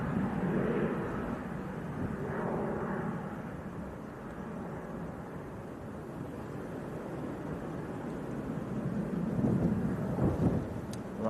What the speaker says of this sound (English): that's EasyJet that's just touched down